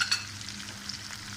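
Tomatoes, onions and a pinch of turmeric being stirred and fried in a pan, giving a soft, steady sizzle with light scraping of the spoon, close and fairly quiet, with no voices.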